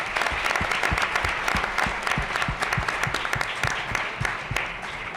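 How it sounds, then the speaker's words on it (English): An audience applauds Tiana at an evening college panel event, a steady wash of many hands clapping that fills the whole stretch at an even, moderately loud level. "we should give her a very good round of applause"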